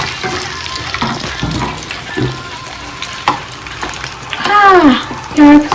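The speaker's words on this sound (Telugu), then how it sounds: "ఫ్రై చేసేసుకున్నాక" Capsicum and egg fry in a pan with a loud, close sizzle, broken by stirring scrapes and clatters, and a few squeaky tones near the end.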